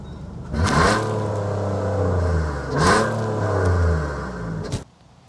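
A 2023 Infiniti QX60 SUV revs twice close by, its deep exhaust note swelling and falling, then idling briefly before cutting off.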